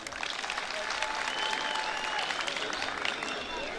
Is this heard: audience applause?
yes